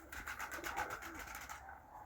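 Çubate and Dumanli-type pigeons cooing softly at an evening feeding, a steady low murmuring coo with light rustling, close by and unaccompanied by speech.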